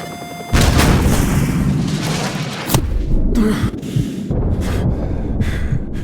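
A Stinger missile launches at a helicopter in Call of Duty 4, a loud boom followed by a sustained roaring rush, then a second sharp blast with rumbling explosions and distant battle noise trailing off.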